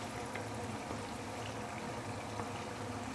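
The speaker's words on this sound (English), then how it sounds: "we are going to fry the prawn for probably about 2 to 3 minutes" Prawns fry in hot oil for sambal, giving a dense, steady bubbling sizzle that stays at an even level throughout, close and continuous, with no voices.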